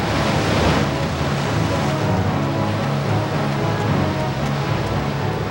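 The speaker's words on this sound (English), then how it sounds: "They were afraid that the roaring walls of water would drown them." Roaring walls of sea water surge in a loud, continuous wash of waves and wind-like rush that fills the whole stretch with no talking.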